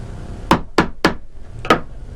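A chisel being tapped into wood to deepen a stop cut while hand-carving a wood spirit walking stick gives four sharp, close knocks, three in quick succession and then a fourth after a short pause.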